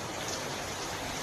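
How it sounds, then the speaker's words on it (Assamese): Heavy rain pours down on a Sunday morning outside a small hotel, a steady dense hiss with no break and no voices. "আজি খুব দবা পিটা বৰষুণ দি আছে"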